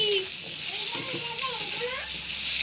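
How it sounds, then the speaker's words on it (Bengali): Mango pieces fry in a little hot oil with mustard seeds and dried chillies for a mango chutney, giving a steady, close sizzle that runs unbroken with a few soft scraping stirs. "এখানে অল্প একটু তেল দিয়ে দেবো আমগুলো দিয়ে দেবো আমগুলো ভেজে নেব"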